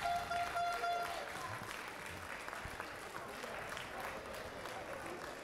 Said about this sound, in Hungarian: Hatalmas tapsot kérünk a Rebels 98-asának.